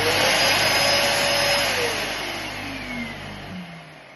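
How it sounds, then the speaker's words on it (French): A Parkside carpet extractor's pump motor and suction run as a steady, loud whining motor roar with a rising tone, then slowly fade and drop off near the end. "On active le moteur de la pompe en premier. On attend qu'il envoie. Une fois qu'il a envoyé, là, on peut mettre l'aspiration"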